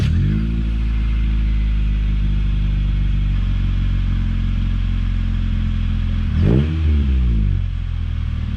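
A Honda del Sol engine with a repaired exhaust idles loudly and close at ground level with a steady throbbing rumble, then gets a sharp rev that rises and falls near the end.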